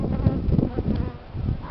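Honey bees hum steadily at an open hive during a frame inspection, a dense, close, fairly loud buzzing drone that swells and dips throughout with no talking.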